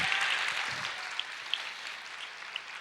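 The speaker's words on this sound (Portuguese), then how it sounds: "pode aplaudir o Senhor e dizer: eu creio" A church congregation applauds in a dense, steady wash of clapping that fades over a few seconds, with a few sharper claps standing out near the end.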